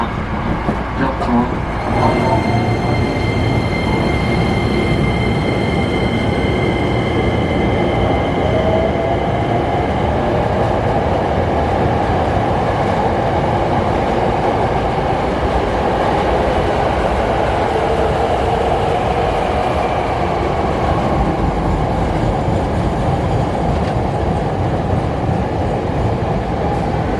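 A train in Osaka, Japan rumbles along the rails for a long stretch at about 100 km/h, a dense steady roar with faint high whines, heard from inside the moving carriage.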